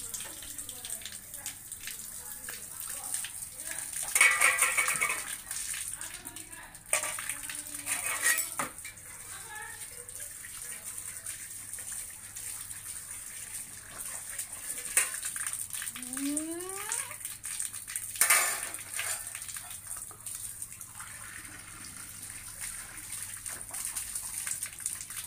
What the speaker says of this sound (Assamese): ল'ৰাটোৱে খোৱা নিজৰ কাঁহীখন নিজেই ধুইছে